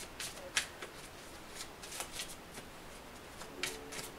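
Tarot cards shuffled and drawn, faint and close: soft riffling and light flicking snaps in a loose, irregular rhythm over a quiet background.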